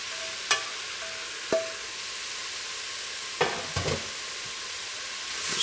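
Tomatoes sizzle in a pot for pumpkin soup, a steady hissing bed with a few sharp knocks and scrapes as they are stirred, close by and without speech.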